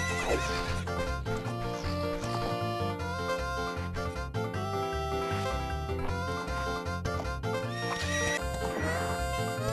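Epona, the horse in the video game The Legend of Zelda: Ocarina of Time, neighs and trots over steady game music, with whinnies standing out near the start and end.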